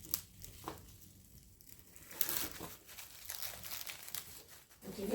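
Paper torn by hand in a home kitchen, a series of crinkling rips and crumpling rustles, close and fairly quiet, with a sharper tear midway and no talking.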